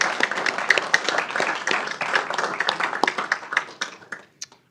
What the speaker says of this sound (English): Let's give all our veterans a round of applause as well.